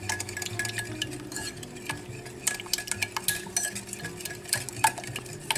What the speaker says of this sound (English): We're just going to whisk them together.